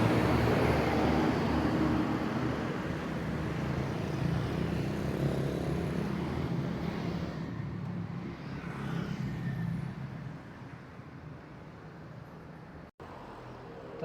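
A tourism bus with an 005 engine rumbles loudly and steadily close by on an Indonesian roadside, the heavy engine drone gradually easing as it moves off.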